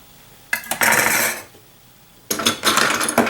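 Metal stand mixer attachments, cookie paddles and wire whisks, clatter and clink against one another in two bursts of handling separated by a quiet pause, close and fairly loud.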